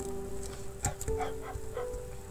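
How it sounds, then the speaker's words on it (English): A pack of dogs in a Minecraft-style video game mod gives a few short yips and barks over a steady background hum, scattered and moderately close. "Come on, massive pack of dogs."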